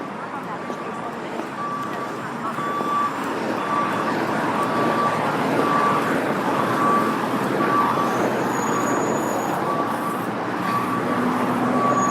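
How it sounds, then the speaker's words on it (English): Downtown street traffic with trucks rumbles steadily for several seconds while a repeated high reversing beep pulses at a regular rhythm, heard from a running pedestrian's position amid continuous road noise. "For those of you who like the sound of trucks"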